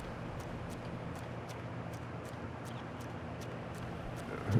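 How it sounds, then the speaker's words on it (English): Little water bugs scurrying in ARK: Survival Ascended on the Scorched Earth map, their footsteps a faint, steady series of light ticks about every third of a second over a constant low rumble of machinery. "You can hear his little footsteps."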